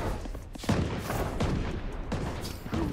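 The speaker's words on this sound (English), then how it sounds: "Who's shooting at me, you fool?" Gunfire in the Valorant shooter game, a steady stream of sharp shots and thuds over a busy in-game background, with no voices.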